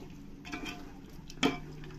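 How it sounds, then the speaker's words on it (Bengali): Spoon stirring yogurt into a spiced biryani mixture in a pan, two brief scrapes with a sharper metallic clink on the second, faint and close with a quiet background. "টক দইটা দিয়ে ভালো করে মশলার সঙ্গে সবকিছুর সঙ্গে মিশিয়ে নেব।"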